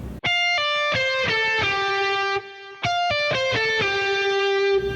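Distorted electric guitar plays a quick five-note scale phrase, then repeats it after a short pause, each run ending on a held, sustained note, close and loud with no talking.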